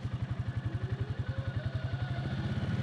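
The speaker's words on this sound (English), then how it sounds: "Oh, there's the engine braking." A 2023 Can-Am Outlander PRO HD5 ATV engine pulses in a steady, rhythmic low putter as it slows under engine braking, with a faint whine rising over it.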